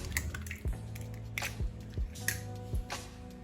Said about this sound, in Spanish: vamos a echar los huevos